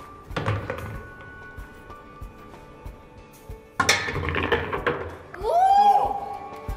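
Cue ball cracks into a racked triangle of billiard balls, a sharp thunk at about four seconds followed by scattered clacks of balls rolling and colliding, close by in a quiet room, then a brief high squeal.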